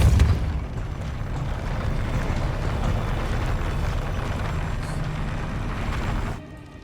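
A Depulso spell cast in Hogwarts Legacy gives a loud, sustained, rumbling magical blast that holds steady for several seconds before cutting off abruptly.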